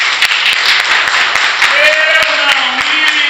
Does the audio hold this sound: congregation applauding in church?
yes